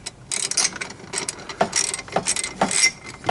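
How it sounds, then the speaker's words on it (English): Small hand ratchet loosening a bolt on a Yamaha jet pump, a series of close, crisp clicking pawl sweeps in quick uneven strokes, with no talking. "This is where I use my little ratchet."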